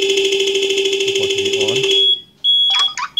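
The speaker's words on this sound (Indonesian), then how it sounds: "kalau di onin akan bunyi alarm ya" A keyless ignition system retrofitted on a Yamaha Mio Fino scooter emits a loud, steady pulsing electronic alarm tone that runs for about two seconds, then cuts out, followed by short chirps while someone speaks over it.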